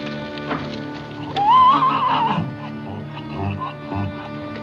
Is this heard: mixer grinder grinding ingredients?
no